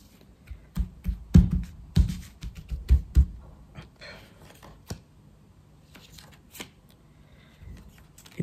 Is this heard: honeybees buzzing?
no